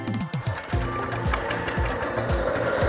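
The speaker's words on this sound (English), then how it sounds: "So I'll start the mower up real quick." A Toro Greensmaster 1600 reel mower engine cranks and catches, sputtering a few times before settling into a steady, close, loud mechanical running note.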